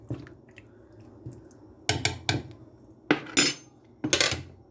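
Chicken being stirred into tikka masala sauce and water in a pot, with several scraping, clanking spoon-against-pot strokes over a low background hum.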